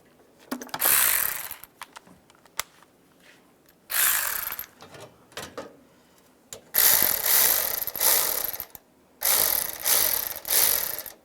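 A ratchet snugs radiator support bracket bolts on a 2007-2013 Chevrolet Silverado, its rapid pawl clicking coming in several close, loud bursts separated by short pauses and small handling clicks.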